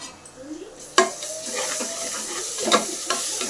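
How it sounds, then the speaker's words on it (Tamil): Ginger garlic paste sautés in a pan for chicken biryani, a soft sizzle under stirring, with a sharp utensil clink against the pan and a few lighter scrapes. "இஞ்சி புள்ளையும் நல்லா வதக்கிக்கலாம்"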